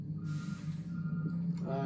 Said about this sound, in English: I'm so sure you guys can hear the beeping in the background